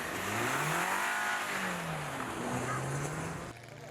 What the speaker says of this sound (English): until they've got a car that's fashioned specifically to clock impressive speeds in the snow